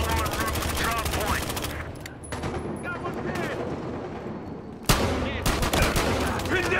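Rapid bursts of MP5 submachine gun fire in Battlefield Hardline, close and loud, running almost continuously with a short lull and a sharp crack near the end.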